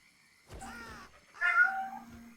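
A house cat meows twice indoors, close by, two drawn-out plaintive calls separated by a short pause against a quiet background.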